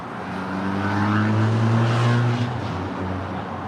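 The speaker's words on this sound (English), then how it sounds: "It's a 777-300ER now pushing back from the gates of the hottest club" An Air China Boeing 777-300ER pushes back from the gate at LAX, and its engines give a broad, steady roar with a rising and falling whine that swells near the middle and then eases.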